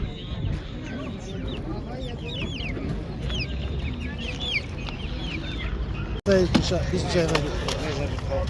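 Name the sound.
Adler breed chickens clucking at market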